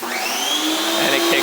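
A home car wash system's water pump kicks on and drones with a steady mechanical whine, fairly loud and close, over a brief stretch.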